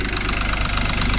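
An Audi A2 1.4 TDI diesel engine cranking and running on start booster spray, a loud, steady low rumble with rhythmic knocking pulses close by, no talk.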